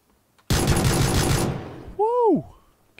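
Pistol fire in the video game PlayerUnknown's Battlegrounds: a dense, loud burst of rapid close shots lasting about a second, followed by a short, high, swooping electronic tone.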